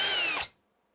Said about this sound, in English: I'm going to go in the center like this and drill a hole nice and straight.